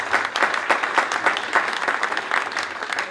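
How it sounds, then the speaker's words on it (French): Audience at a business colloquium applauding a speaker's testimony, with continuous, even clapping from a sizable crowd throughout, fairly close and full. "Je vous propose de l'applaudir."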